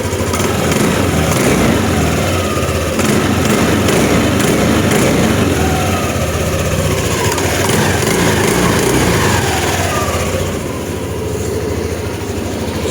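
Yamaha Aerox V2 scooter engine revving loudly and steadily up close, a dense continuous motor roar with slight rises and dips, no talking.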